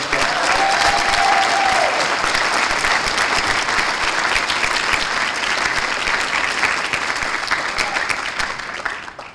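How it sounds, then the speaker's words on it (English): Sustained, loud audience applause at a community celebration breakfast honoring the Hamilton City School District; a dense wash of many hands clapping evenly for about nine seconds before tapering off. "So quick round of applause,"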